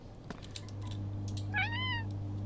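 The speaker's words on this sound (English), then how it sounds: "Is it a cat?" A single clear cat meow from the video game Midnight Postman, a short rising-and-falling call over a steady low background hum with light clicks before it.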